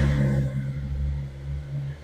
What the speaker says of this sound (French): on va patienter un petit peu le temps que la moto parte